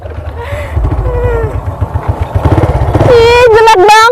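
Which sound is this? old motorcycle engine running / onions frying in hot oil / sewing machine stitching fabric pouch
old motorcycle engine running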